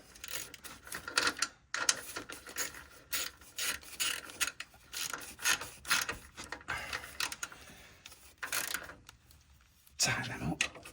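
Land Rover Defender filter hose fittings being tightened by hand, a string of close rasping, rubbing and scraping strokes with short pauses between them.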